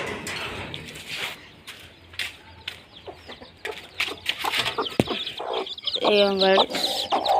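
A hen clucks softly while pecking at feed among chicks, with scattered pecking and rustling, a voice talking over it and a brief bright squawk near the end.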